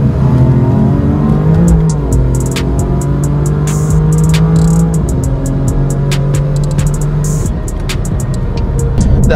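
A BMW F80 M3 with Pure Turbos Stage 2+ upgrades, an Active Autowerke midpipe and an aftermarket exhaust revs loudly up close, with rising and falling engine pitch, a droning hold and crackling pops over the idle.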